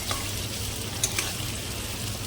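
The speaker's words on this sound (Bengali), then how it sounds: "এর মধ্যে আমি একটু জিরা ফোড়ন এবং কেটে রাখা পেঁয়াজগুলো দিয়ে দিলাম" Chopped onions and cumin seeds frying in hot oil, a continuous even sizzle with a low crackling bed and a couple of brief sharper spits, close and steady without talk.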